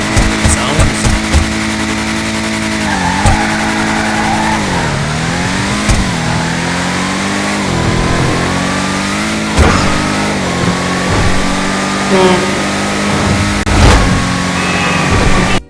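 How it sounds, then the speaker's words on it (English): Hotring Hellfire muscle car in a racing video game, its engine revving and accelerating loudly with repeated pitch sweeps and gear changes, a sustained close roar throughout with occasional sharper bursts. "The Hotring Hellfire, when you look at it, looks like a mean muscle car that accelerates like crazy"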